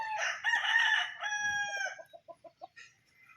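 A Raptor Sweater gamefowl rooster crows once, loud and close, then gives a short run of clucks that fade out.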